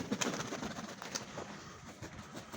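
Pigeons cooing nearby, soft repeated coos over faint outdoor background noise, with no talking.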